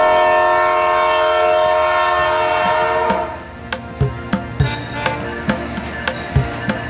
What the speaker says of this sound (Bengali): অবশেষে সুন্দরবন এক্সপ্রেস ট্রেনটি রাজবাড়ি চলে আসলো